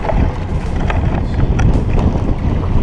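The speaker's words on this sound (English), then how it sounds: "Oh, it's windy now too, man." Wind rushes and buffets the microphone in a steady low roar while kayaking on the Detroit River, with faint splashes beneath and no voices.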